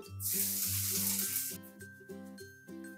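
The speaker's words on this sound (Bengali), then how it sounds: "এবার এই একই তেলের মধ্যে প্রথমে দিয়ে দেব রসুন কুচি" Chopped garlic hits hot oil left from frying eggs for egg tadka, bursting into a loud bright sizzle that hisses for about a second before fading. Steady musical tones carry on underneath and continue after the sizzle dies away.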